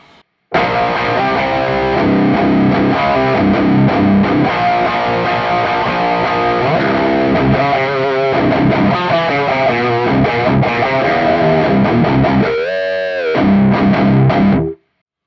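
Heavily distorted electric guitar through a Soldano SLO pedal, mid-forward with little bottom end, playing loud sustained chords and riffs, dense and continuous, with a short pause near the end.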